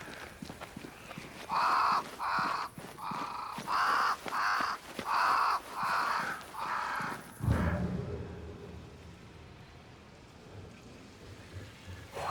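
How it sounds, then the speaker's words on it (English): Crows in the video game Banishers: Ghosts of New Eden, seven loud, evenly spaced harsh caws in a row, followed by a rumbling thud and quieter ambient sound. "Crows. They flock to that great tree up there."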